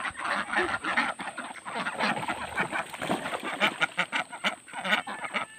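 Farm ducks quack busily and continuously, several calls overlapping in a close, lively chorus.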